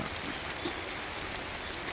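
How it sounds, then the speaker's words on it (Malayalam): Steady, soft hiss of light rain falling, an even wash of patter with no distinct drops standing out, and no voices. "ചെറിയൊരു മഴയുണ്ട് ചാറ്റൽ മഴ"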